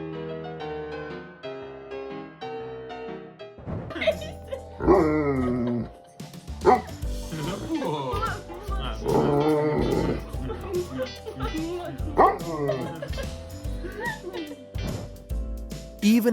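A dog barks loudly in short bursts mixed with high whimpers and yips, close up, after a brief stretch of background music, with the barking and whining continuing irregularly throughout.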